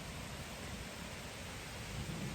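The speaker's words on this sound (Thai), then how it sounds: "ทุกคน ฝนตก" Steady rain falling outdoors, a dense even hiss of drops that stays constant without any change.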